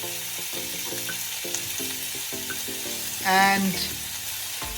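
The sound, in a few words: cod fish frying with tomatoes and spices, being mixed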